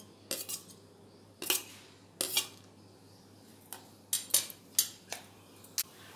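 Panch phoron spices hit hot oil in a pan with a handful of sharp, separate crackles and clinks spread over a few seconds, close and fairly loud against a quiet background.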